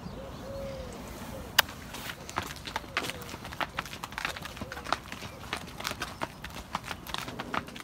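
Hooves clop irregularly on a hard surface as field horses walk into a barn, with faint birdsong and a brief sharp knock early on.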